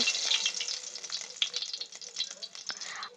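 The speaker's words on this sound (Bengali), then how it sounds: "আমাদের তেলটা গরম হয়ে গেছে। এরপর এর মধ্যে আমরা কালো জিরে দিয়ে দেব" Nigella seeds (black cumin) crackle in hot white oil for pea-filled kachori, a brief bright spitting sizzle with small pops, close and fairly soft.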